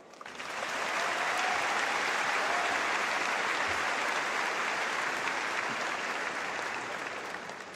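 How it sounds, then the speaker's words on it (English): A graduating high school class and its audience applauding in an arena, sustained broad clapping that swells in quickly, holds loud and even for several seconds, and eases slightly at the close. "let's show our appreciation with a big round of applause"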